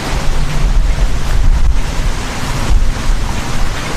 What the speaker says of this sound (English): Apologies about the wind.